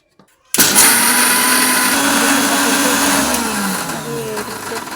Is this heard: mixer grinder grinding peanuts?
yes